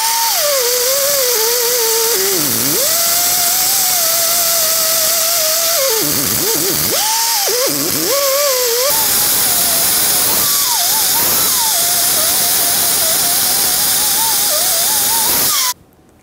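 A wire brush scrubs rust off the brake drum of a 1995-2004 Toyota Tacoma, giving a loud, continuous whining hiss whose pitch dips and rises with the pressure and then cuts off abruptly.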